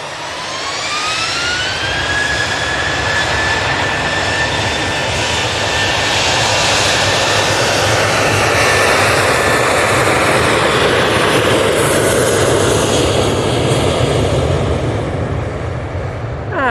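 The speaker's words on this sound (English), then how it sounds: "Ryanair is about to depart now using the 737-800." A Ryanair Boeing 737-800 departs from Manchester Airport, bound for Belfast. A rising turbine whine climbs into a loud, sustained jet roar that fills the whole stretch with no talk over it.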